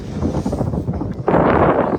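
Wind buffets a microphone on a bridge over the water, gusty rumbling in uneven waves that swells into a stronger, broader rush for the last part.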